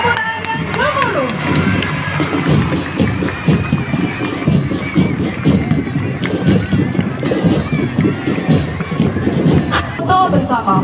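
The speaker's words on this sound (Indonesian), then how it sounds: "kita berikan tepuk tangan yang gemuruh" A crowd claps at an outdoor school assembly for Muhammadiyah's 112th anniversary. The dense, rattling applause carries on for the whole stretch, mixed with voices and some wind buffeting.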